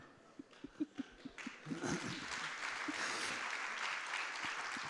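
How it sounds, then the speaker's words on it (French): Applause at a literary gathering: a few scattered claps start out, then the audience joins into sustained, moderately distant clapping as a voice speaks briefly. "Et ils osent applaudir."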